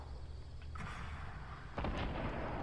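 A cannon fires in the Fortnite video game, a booming blast cutting through steady game noise with a heavy, rumbling impact near the end.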